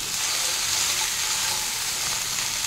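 Partly cooked vegetables for Bengali sukto fry again in a pan, giving a dense, even sizzle that stays loud and close throughout with no voices.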